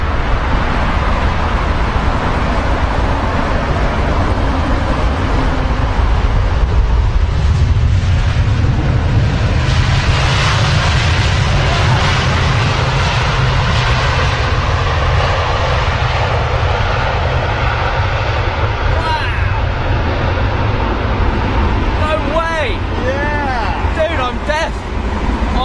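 Boeing 777 airliner engines roaring at London Heathrow, a loud, steady broadband jet rumble sustained throughout, with voices talking over it and a brief whine near the end.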